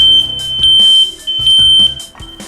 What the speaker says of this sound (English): everybody will know that there is an alarm going off in this side of the apartment complex